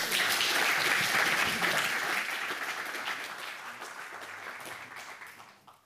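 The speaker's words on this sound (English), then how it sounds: "It's always a pleasure getting applause when you haven't even done anything yet." An audience claps loudly and steadily, then the applause thins out and fades away at the end.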